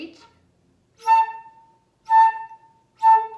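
Three short, airy flute notes with a breathy, unfocused tone from poorly aimed air, separated by brief silences.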